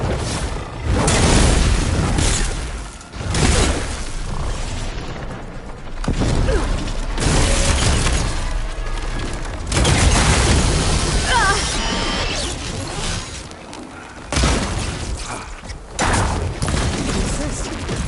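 Supporting gunfire and explosions in the video game Horizon Forbidden West, repeated booming bursts and mechanical rattling clatter at loud, uneven intervals, with talk mixed in.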